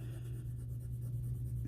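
A blue colored pencil shades across paper in a continuous, close, soft scratchy rasp that holds at an even level throughout.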